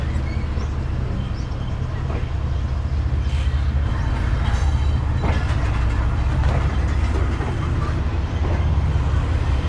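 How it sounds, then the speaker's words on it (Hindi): The Pak Business Express passenger train runs steadily after leaving Bahawalpur, a loud continuous low rumble and rattle of wheels and coaches with occasional clanks, heard from inside. "पूरे 8:05 पर तकरीबन ट्रेन हमारी निकल चुकी है भावलपुर से"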